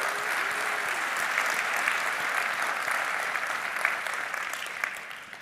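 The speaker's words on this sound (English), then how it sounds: "let's just first give another round of applause for all the amazing speakers today" A conference audience gives a sustained round of applause for the day's speakers, dense and even clapping from a large crowd that fades out toward the end.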